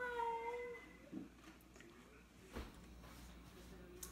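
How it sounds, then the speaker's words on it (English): A cat meows softly at the start, rising and falling, followed by faint background noise and a soft thump. "our cat's like meowing"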